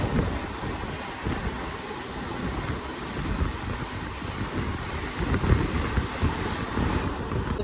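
A passenger train runs from Delhi toward Panipat between small suburban stations, its steady rolling rumble and rattle mixed with rushing wind buffeting the microphone, with a slightly louder surge of wheel noise near the end.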